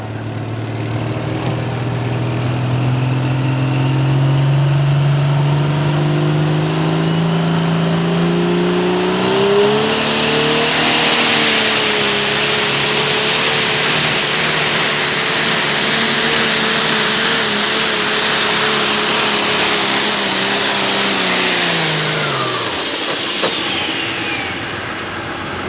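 Modified turbo tractor engine at a tractor pull, roaring louder as it revs and climbs in pitch, with a rising turbo whine held through a long pull before the engine winds down near the end.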